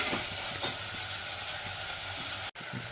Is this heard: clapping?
no